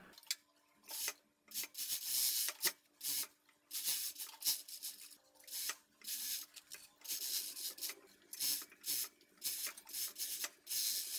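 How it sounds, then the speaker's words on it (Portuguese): An overlock sewing machine stitches the side of a pocket on a long tailored vest, running in short, repeated bursts of close, whirring, rasping stitching separated by brief pauses. "vou passar essa parte da lateral do bolso na overlock"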